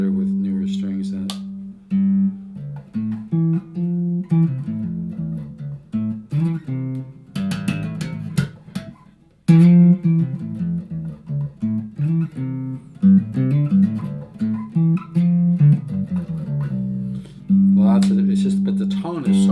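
Korean-made limited edition Epiphone EB-3 style bass guitar with a glued-in mahogany neck and three-year-old strings, played in a run of plucked notes and short phrases with a brief pause midway.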